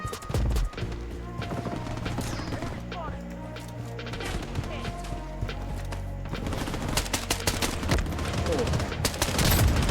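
Rapid bursts of automatic gunfire and dense shooting effects from the BloodStrike video game fill the clip loudly and continuously, with a voice talking over the action.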